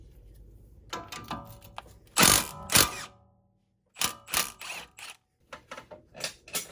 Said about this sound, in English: We're going to take off the 19mm castle nut from the top of the upper control arm.